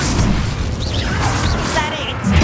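An Incendio fire spell cast in Hogwarts Legacy, a whooshing burst of magical flame amid combat effects and crackling noise, with voices speaking over it throughout.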